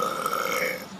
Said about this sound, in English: Yes, I burped.